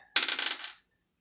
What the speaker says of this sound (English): I'll spend this die here to roll a die